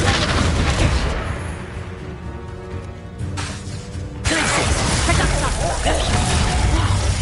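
Confringo fire-blast spell explosions in the Hogwarts Legacy video game during a hard-difficulty battle, loud booming bursts and crashing impacts over dense combat noise, with a player voice talking and shouting over the action.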